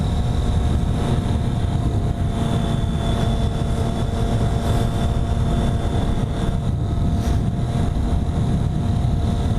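A three-cylinder motorcycle being ridden, its engine droning steadily with a constant hum and rumble, mixed with wind rush, loud and close throughout, no talking.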